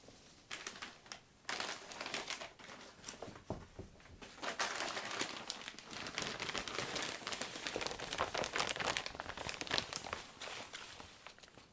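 Christmas wrapping paper being handled, with crisp, close crinkling and rustling that starts in scattered bursts and grows into a continuous, busy crackle.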